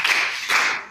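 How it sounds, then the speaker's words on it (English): Students in a classroom during a trigonometry lesson give a quick round of applause, heard as two short swells of clapping. "Give a round of applause for that."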